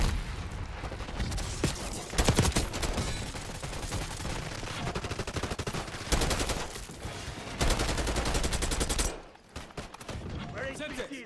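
Dense, loud gunfire from a Call of Duty: Black Ops 6 match, with rapid automatic bursts and scattered shots running almost continuously before a sudden drop near the end, while game voices call out under the shooting.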